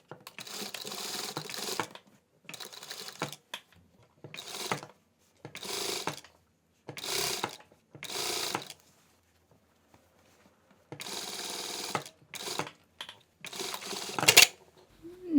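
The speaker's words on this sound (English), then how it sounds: "I'm sewing on the crease line that is already there on this bias tape" A sewing machine stitches bias tape along its existing crease onto a hoodie's back neckline, running in a series of short, close bursts separated by brief pauses.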